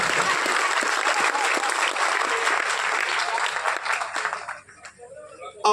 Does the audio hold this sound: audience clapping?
yes